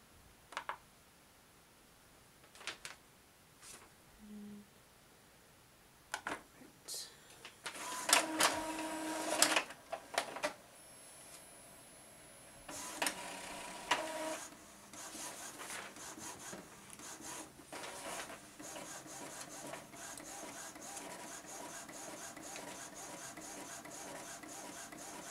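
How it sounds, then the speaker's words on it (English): An Epson EcoTank ET-2800 inkjet printer works alone: scattered clicks and whirs, then bursts of grinding feed noise and repeated back-and-forth rasping of the print head, fairly quiet. "this printer is not quiet. You can definitely hear it printing."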